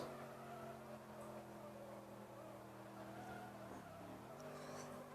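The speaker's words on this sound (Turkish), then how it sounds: "Bakın görüyorsunuz nasıl drift çekiyor." A video game car drifts with steady engine drone and skidding tires, a continuous smooth hum that dips in pitch briefly near the end.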